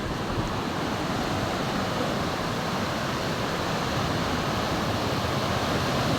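Sea waves break on Kuakata beach in the morning, making a dense, continuous roar of surf mixed with wind that stays loud and even throughout, with no voices.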